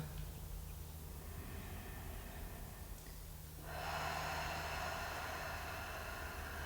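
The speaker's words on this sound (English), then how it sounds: "breathe out through the mouth and breathe in through the mouth" A slow, audible mouth breath during a yin yoga class for hamstrings and back, a soft airy exhale followed by a stronger rushing inhale, close over a steady low background hum, with no talking.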